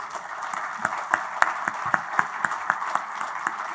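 An audience at the FIIS event in Agadir claps in a steady rhythm, about three to four sharp, fairly close beats per second, with no one talking over it.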